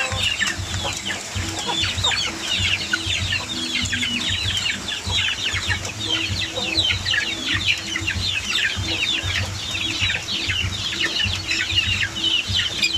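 A large flock of chicks on a farm cheeps and clucks continuously, dense overlapping peeping close by with a low rumble of background noise underneath; no speech.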